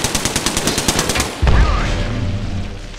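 Gunfire in Apex Legends opens as a rapid, evenly spaced automatic burst of loud shots, then a heavy boom lands and leaves a lingering rumbling tail.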